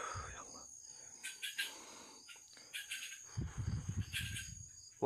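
A house gecko gives short bursts of rapid chirping clicks at night near banana trees, repeated a few times against a steady high insect drone, with low murmured sounds partway through.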